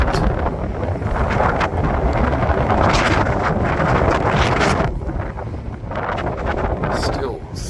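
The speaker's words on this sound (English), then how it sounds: "Still so windy." Strong gusty wind buffets the microphone outdoors on a snowy day in Reykjavik, Iceland, a continuous loud roar that surges and eases in waves, with a voice speaking underneath.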